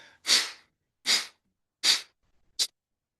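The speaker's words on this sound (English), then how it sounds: "either long, deep breath or a breath of fire, and we're just sitting and breathing." Yoga breath of fire or deep breathing while seated, four sharp forceful exhalations through the nose, evenly spaced and close, the last one shorter, with silence between them.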